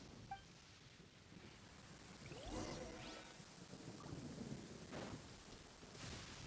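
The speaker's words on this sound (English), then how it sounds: "Uh-oh! Lightning storm!" A thunderstorm in the video game Genshin Impact: steady rain hiss with rolling thunder rumbles and a couple of sharp crackling lightning strikes, moderately loud, with no voices.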